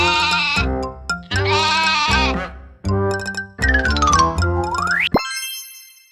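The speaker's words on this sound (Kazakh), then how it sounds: "Ал бұл қозы." A lamb bleats close and loud in several quavering calls, the last one trailing into a rising cartoon whistle and ringing chime, set in a children's animal learning game.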